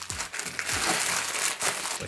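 Plastic packaging around a mailed book crinkles and crackles as it is cut open by hand, a close, busy rustle with a few sharper crunches running through the whole moment.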